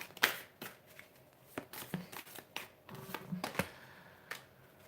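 Tarot cards shuffled by hand during a live reading: a string of crisp, close riffles and snaps coming in uneven bursts, sharp and fairly loud with short pauses between, no voice.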